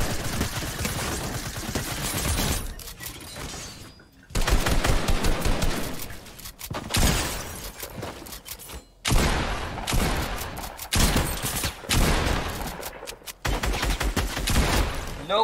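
Video game gunfire in Fortnite, pump shotgun and other weapons, loud dense bursts of rapid shots broken by short pauses, repeating in several clusters with no talking.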